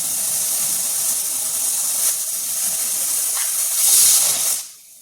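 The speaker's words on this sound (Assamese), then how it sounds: "দালিও চিটি মৰা হৈ গ'ল আৰু এটা চিটি মাৰিব দিওঁ" A pressure cooker on the stove whistles as dal cooks, a steady loud steam hiss that swells into a sharper, brighter blast near the end before cutting off abruptly.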